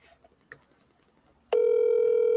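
During a phone call, a few faint, scattered noises are followed by a loud, steady telephone dial tone that starts abruptly and holds without a break.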